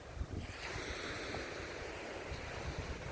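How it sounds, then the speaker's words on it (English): Surf and wind at West Bay Beach by the pier make a soft, continuous wash, with wind buffeting the microphone and no talking. "It's West Bay Beach."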